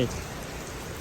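Heavy rain pours down steadily during a storm at an outdoor stage event in a Thai village, a dense, continuous hiss of drops with no pauses, moderately loud throughout.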